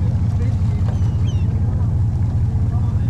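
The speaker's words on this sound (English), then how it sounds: "He fired the boat up" A sportfishing boat engine off Point Loma, San Diego, runs steadily with a low rumbling throb throughout, close by, with faint voices and water noise above it.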